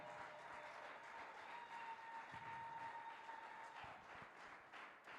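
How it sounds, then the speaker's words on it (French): A church congregation claps in steady, continuous applause, heard faint and somewhat distant, with a thin electronic hum running underneath. "Can we clap for our Father?"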